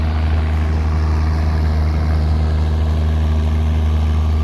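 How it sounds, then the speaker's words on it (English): A John Deere–style G706 four-wheel-drive tractor engine idling steadily at a plow day, a deep, constant diesel rumble with a strong low hum, close and loud, with no talk over it. "And I love the sound of this G706."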